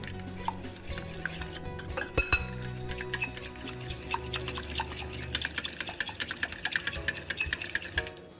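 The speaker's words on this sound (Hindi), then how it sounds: "अब हम इनको अच्छी तरह से मिक्स करेंगे।" Lemon juice marinade being stirred in a bowl with a utensil, producing steady scraping and clinking against the bowl's sides, fairly quiet with a few sharper knocks, no voices.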